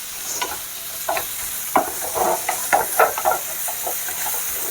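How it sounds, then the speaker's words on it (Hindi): Boiled Maggi noodles being stirred and fried in a hot pan, a soft continuous sizzle broken by repeated scraping stir strokes in an irregular rhythm, close by with no talk. "2 मिनट पकने के बाद हम सारा नूडल्स डाल देंगे जो हमारा मैगी उबला हुआ है, और इसको भी हम अच्छे से पका लेंगे।"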